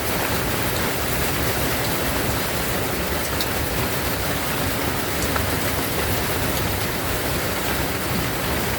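Heavy, steady rain pours down on a farm during a typhoon, a dense unbroken hiss that stays loud and even throughout with no voices.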